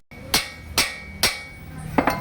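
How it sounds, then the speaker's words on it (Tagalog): A hammer strikes the steering spindle of a Toyota Fortuner three times in an even, sharp rhythm, close and loud, followed by a couple of softer metallic knocks. "pukpukin mo lang dito sa spindle,"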